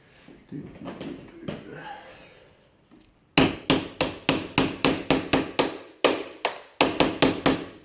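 A scraper knocks up and down on the stuck bolts of a jammed window lock, giving a rapid run of sharp, close metallic taps in short bursts. Softer rustling and a voice come first.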